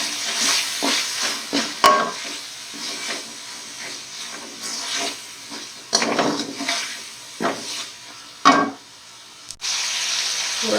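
Black pepper, salt and turmeric stirred into tomatoes in a hot pan while cooking a bitter gourd, minced meat and potato dish: soft sizzling and hissing broken by scraping spoon strokes and occasional sharp clinks against the pan.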